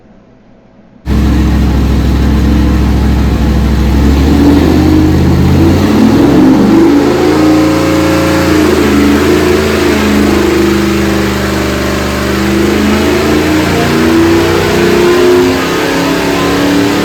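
After a brief silence, a 383 small-block Chevy stroker with a COMP XE274H camshaft fires up on a dyno and revs loudly, its pitch rising and falling through several pulls, with no voices.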